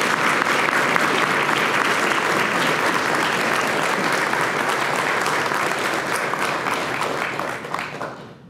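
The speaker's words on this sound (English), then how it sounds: "Now let's go ahead and give Ian a round of applause." An audience at a school mentoring partnership breakfast gives a round of applause, loud and sustained, with dense clapping that fades slightly toward the end.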